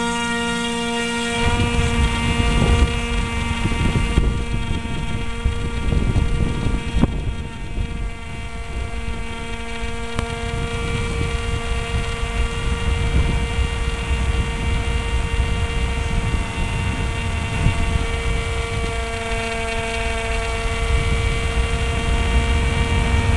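A Multiplex Easy Star model airplane flies overhead in St. Pete, Florida, giving a steady, loud, humming motor drone with buzzing overtones, mixed with constant wind rumble on the microphone.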